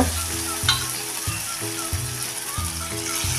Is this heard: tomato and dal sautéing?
yes